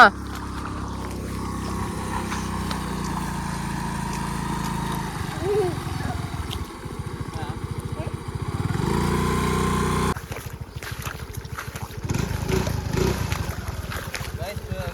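A motor vehicle drives through a wet paddy field, its engine droning steadily and shifting in pitch as it labors, with people talking over it throughout.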